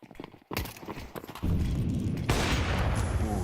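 Gunfire in a Counter-Strike match rattles in sharp bursts, first sparse and clipped, then a dense, loud stream of rapid shots filling the rest of the short stretch.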